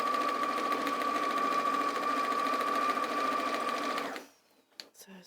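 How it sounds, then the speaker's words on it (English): A domestic sewing machine runs steadily for about four seconds, stitching the side seams of a Christmas make, then stops abruptly, leaving faint room noise and a soft handling sound. "I'll just do those last two side seams, and then I'll trim it up"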